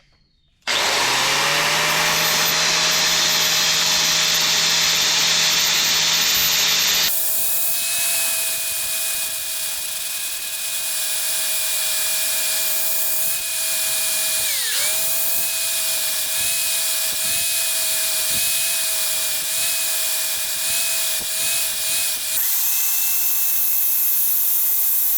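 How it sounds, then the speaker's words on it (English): An electric power drill bores holes for a homemade spray paint can shaker, a loud sustained high-pitched whine that spins up, shifts pitch partway and dips briefly under load, running nearly continuously. "I'm going to drill 2 holes and just bolt the stuff together"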